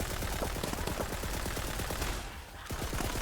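Rapid automatic SMG fire in a shooter game, a close, steady stream of quick shots that briefly thins near the end before resuming.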